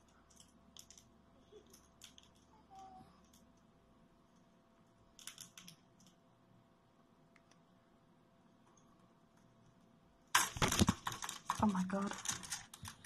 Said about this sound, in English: he is on my keyboard.